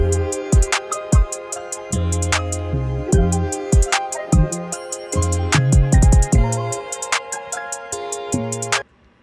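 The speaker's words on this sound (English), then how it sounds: "now I made a little bit of an ending here with a little bit of a kick roll" A programmed drum beat made in FL Studio with punchy kicks, snappy hits and ticking hi-hats plays, closing on a quick kick drum roll before cutting to silence.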